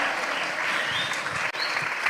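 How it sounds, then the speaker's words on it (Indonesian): A lively burst of applause from an audience at a national dialogue forum, dense, steady clapping that fills the short moment, close and fairly loud. "Kasih tepuk tangan yang meriah dong."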